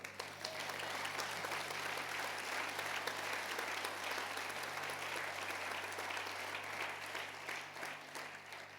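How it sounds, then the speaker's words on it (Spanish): A church congregation applauding during a Spanish-language sermon: sustained, even clapping from many people, fairly distant and soft, with a steady low hum from the hall beneath it and no talk over it. "¿Cuántos damos un aplauso al Señor?"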